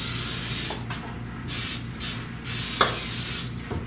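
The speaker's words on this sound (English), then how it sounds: "you're going to spray it with some non-stick" Non-stick cooking spray hisses from a can into a 9 by 13 inch baking pan in several close, steady bursts separated by short pauses.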